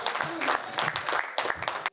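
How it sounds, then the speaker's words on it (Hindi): Dense applause from an audience at a Hindi comedy poetry gathering, steady clapping with a few louder bursts, stopping abruptly at the end. "गौरव चौहान आपकी तालियों से आएंगे तो ज्यादा आनंद।"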